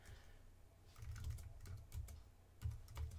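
A computer keyboard is typed on to enter text in Silhouette design software: several quiet, separate keystrokes in short bursts with small pauses, heard alone with no talking.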